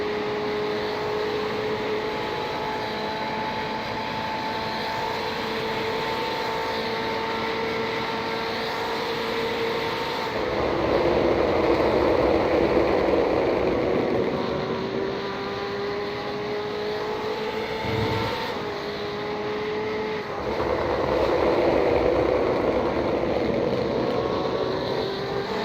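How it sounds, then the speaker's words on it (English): BMW GTE race car engine on a circuit's front straight, a sustained loud onboard drone with harmonic pitch rising and falling through gear changes, surging louder around the middle and again near the end. "just listen to the sound of the BMW"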